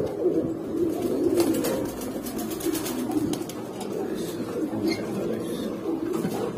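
A female Show King pigeon gives soft, low, repeated coos close by over steady background noise.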